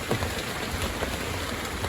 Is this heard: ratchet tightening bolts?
no